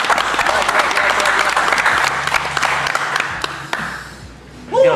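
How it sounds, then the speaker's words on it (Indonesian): Audience applause at a Marapthon reaction stream, a close dense patter of many hands clapping that thins out and fades, followed by a brief voice at the end. "Ayo tepuk tangan lagi,"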